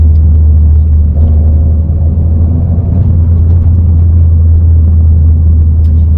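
Peugeot 208 GTi pulling under acceleration with a failing turbo, its engine a loud, steady low rumble that holds throughout with a slight surge midway, no voices over it.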